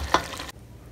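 White chicken karahi sizzling on a low flame, a short burst of soft frying hiss with a faint clink that cuts off abruptly halfway through.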